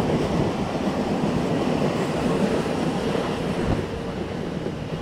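A local train on the Barddhaman–Howrah chord line runs at speed, a dense, steady roar of wheels and carriage rumble close by, continuous and unbroken.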